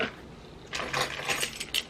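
Keys jangle and clink inside a Louis Vuitton Nano Noe handbag, a few bright metallic rattles in quick bursts after a quiet moment, close and fairly soft.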